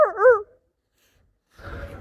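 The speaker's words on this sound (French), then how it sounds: "T'as vu comment il aboie par-ci, là?" A dog gives a short burst of yelping barks at the start, then falls silent before a few low, muffled sounds return near the end, close to the microphone with no talk.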